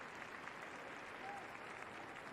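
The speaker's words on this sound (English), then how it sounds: "Appreciation from the home crowd." The home crowd at a J2 League football match between Yokohama FC and Tokushima Vortis applauds, a steady distant wash of clapping across the stadium heard faintly and evenly throughout.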